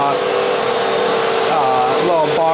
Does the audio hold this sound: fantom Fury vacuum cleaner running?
yes